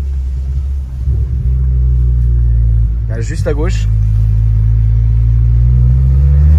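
A car on a test drive gives a steady low engine rumble throughout, loud and close, with a brief voice over it partway through.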